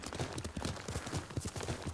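Horse hooves clip-clop steadily in Ghost of Tsushima, a quick, regular run of close hoofbeats at a trot or canter with no talk over them.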